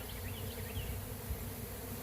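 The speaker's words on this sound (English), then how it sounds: "There's more bees there than what there was 10 minutes ago coming to that hive." A steady hum of many honey bees buzzing around a hive, with individual bees droning past close by over a continuous background swarm.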